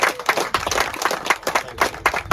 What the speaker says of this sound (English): Let's give David Harrison a round of applause.